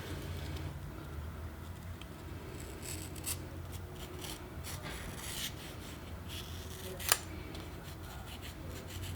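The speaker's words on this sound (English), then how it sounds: "We're going to cut a 45-degree bevel on the side that has the 2 score cuts." Blade drawn through foam board to cut a 45-degree bevel along a scored edge for model airplane landing gear, a soft continuous rasping scrape with brief crisp bursts and one sharp snap near the end.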